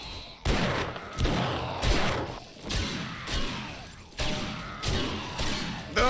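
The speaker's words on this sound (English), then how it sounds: "that shotgun ain't doing shit. Just bouncing off their helmets" Heavy shotgun blasts in the survival game 7 Days to Die (Darkness Falls mod) as zombies are fired on, about seven booming shots spaced roughly a second apart, each with a crashing, echoing tail.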